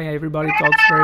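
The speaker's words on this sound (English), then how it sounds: "Apologies for the cat." A cat meows close by in a drawn-out, tonal cry, overlapping a person talking.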